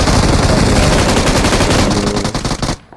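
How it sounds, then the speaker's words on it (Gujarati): An M249 machine gun in a video game fires loud, rapid, continuous bursts up close, then cuts off abruptly just before the end. "આ M249 જડી ગઈ. હવે જો થોડ ધડાકા"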